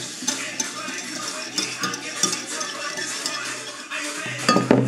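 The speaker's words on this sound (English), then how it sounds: "Mix it together with the whisk." Sour cream being whisked in a bowl for dolma, a quick run of clinking, scraping metal-on-bowl strokes, close and fairly loud, with no talking.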